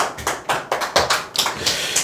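An audience claps in a quick, uneven run of about eight close, sharp hand claps.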